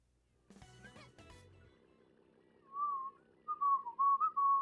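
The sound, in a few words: whistling into the microphone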